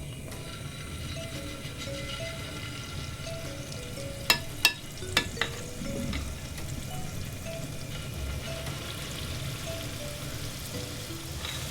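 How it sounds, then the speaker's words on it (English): Plantain fritter batter fries in hot oil, giving a faint, continuous bubbling sizzle with a few sharp clicks near the middle and no voices. "we've got our oil heating up, so we're just going to put them into the oil to fry"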